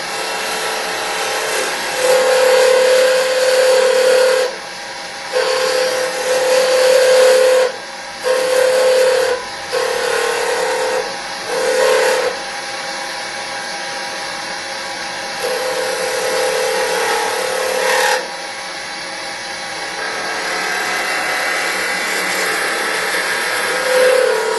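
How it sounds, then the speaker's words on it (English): A wood lathe spins a pen blank while a 1/8 inch parting tool cuts into it, giving a loud, steady hiss with a high whistling tone. The cutting sound stops and starts repeatedly in short bursts. "take it back over to the lathe and do some further embellishment. 1/8 inch parting tool."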